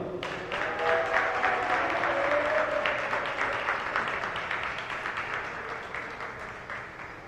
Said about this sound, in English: Ladies and gentlemen, a round of applause for Ivan Boya.